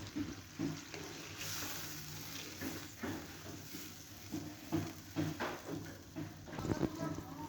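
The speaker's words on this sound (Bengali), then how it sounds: "চাটনিটা আমার ভালো করে ফুটে উঠেছে" Fish chutney boils in a pan, a soft, steady bubbling with irregular pops and gurgles, heard close and fairly quiet, with no talk.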